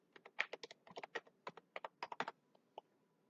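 Rapid keystrokes on a computer keyboard while JavaScript code is entered, a close, irregular burst of crisp clicks with short pauses and no talking.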